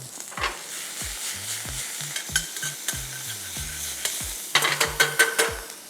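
Shrimps sizzle in a frying pan, with a steady hiss under repeated spatula scrapes and taps, loud and close, no voices.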